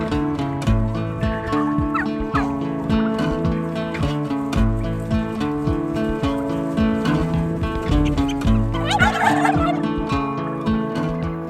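Midget White turkeys gobbling on a farm, repeated loud rattling gobbles overlapping from several birds close by, with a brief burst of higher calls near the end and no talking.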